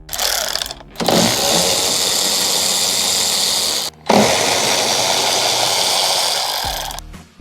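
Power tool whirring in two long bursts with a short pause, removing the 10 millimeter tail light bolts on a 4th gen Toyota Tacoma; loud, steady and close, with no talk.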